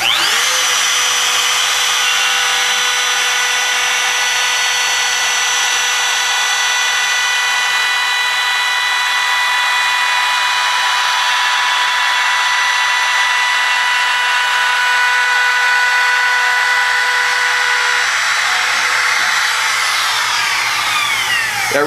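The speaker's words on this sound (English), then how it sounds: "That router had no idea that it wasn't cutting wood." A router spinning a ground ultra-fine-grain carbide single-lip cutter at 35,000 RPM cuts a surface plate pattern, a loud, close, continuous high-pitched whine that holds steady throughout.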